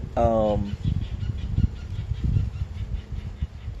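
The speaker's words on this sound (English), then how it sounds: "I hear an animal back there. I think a large bird." A short harmonic call from a large bird, like a rooster's squawk, rings out at the start at Fort McAllister, then low rumbling and muffled noise continue.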